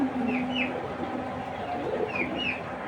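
Racing pigeons cooing in a loft, low soft coos repeating steadily at close range, with a few higher bird chirps above and no talking.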